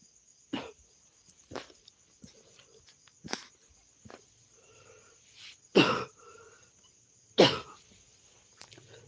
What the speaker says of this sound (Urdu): دوبارہ کھانسی شروع ہو گئی ہے